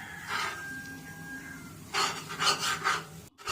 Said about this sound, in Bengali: এবার দিয়ে নাড়তে হবে, ভালো করে নাড়তে হবে।